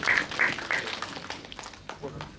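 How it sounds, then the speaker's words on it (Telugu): Audience clapping at a film pre-release event, scattered claps that fade through the moment under talking voices from the stage area. "ఒక్కసారి గట్టిగా క్లాప్స్ కొట్టండి"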